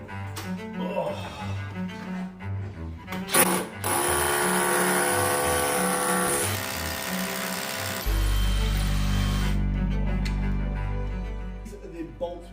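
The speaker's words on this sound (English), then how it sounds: "So I've drilled a 7mm hole." A power drill boring a 7mm hole into masonry during joist and floorboard replacement, a sustained loud whirring grind running several seconds, then shifting to a steadier hum, with scattered talk around it.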